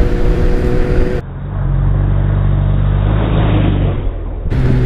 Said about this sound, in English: I'm a little bit afraid to really pull the throttle, because I know this is a very powerful bike.